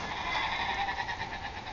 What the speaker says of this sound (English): The goats and the cows hear me.